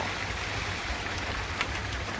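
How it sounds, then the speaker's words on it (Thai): Rain starting to fall under a darkening, cloud-filled sky: a faint, even patter and hiss that holds steady throughout the short stretch, with no voices. "ฝนตก แล้ว ค่ะมืดขึ้นเลย"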